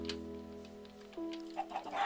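Chickens clucking in the video game Minecraft, a few soft, short clucks over a low steady background hum, faint and close.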